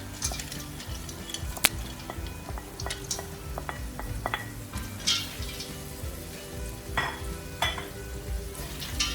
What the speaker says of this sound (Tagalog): Haluin natin ang pasta ng bahagya at hayaan muna natin siya maluto.